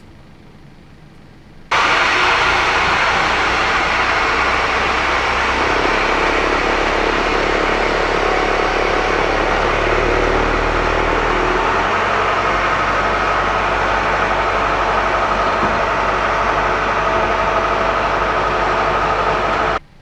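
Boeing 737-800 jet engine spooling up on start in the Prepar3D flight simulator: a sudden loud onset, then a sustained whining roar that holds steady, heard alone without talk.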